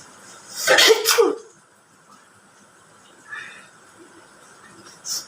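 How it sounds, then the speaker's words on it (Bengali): A loud, close human sneeze bursts out in a double burst near the start, set off by sniffing ground spices such as cumin, ginger and chili; a couple of faint sniffs or small noises follow in otherwise quiet surroundings. "চলো দেখি যাক হেঁচি দিতে পারি কিনা"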